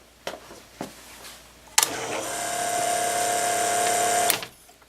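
A diaphragm pump on a cycle timer kicks on after a couple of clicks, buzzing in a loud, steady whine for about two and a half seconds before cutting off abruptly, heard up close.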